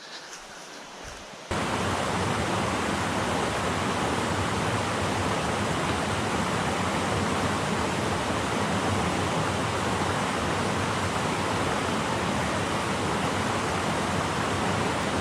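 Rushing water of a backcountry mountain stream in North Carolina, a steady broadband roar that starts abruptly after a brief quiet moment and continues loud and unbroken, close by, with no voices.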